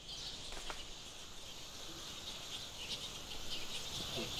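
A dense, high chattering chorus of fruit bats in trees rises and falls continuously over a soft background hiss, with occasional sharper squeaks standing out.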